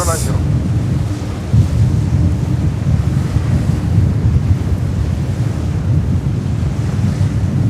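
Steady, heavy wind buffets the microphone at an outdoor plane-spotting spot near JFK airport. A dense, continuous low roar runs throughout, with no breaks.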